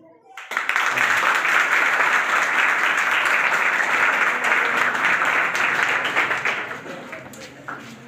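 An audience bursts into applause for a singer after her song, many hands clapping densely and loudly for several seconds before the sound gradually tapers off.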